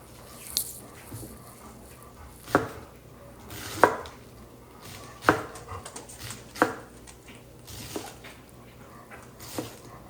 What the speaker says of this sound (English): It really doesn't take that long to cut up a cabbage.